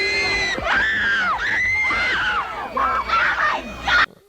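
Beatles fans at a 1964 appearance scream in a dense, sustained crowd roar, high shrieking voices rising and falling continuously before cutting off abruptly at the end.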